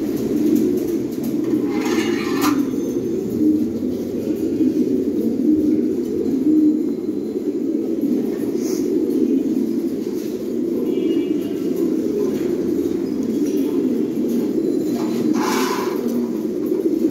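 Fancy pigeons at a pigeon farm in Bangladesh coo continuously in a dense, overlapping low murmur from many birds, with occasional brighter chirps and rustles and no talking.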